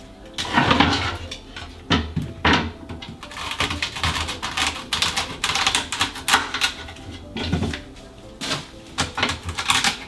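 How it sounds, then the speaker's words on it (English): Knife chopping off the base of a celery bunch on a cutting board, a series of sharp close knocks with irregular rhythm, heard alone. "So we're gonna chop it off."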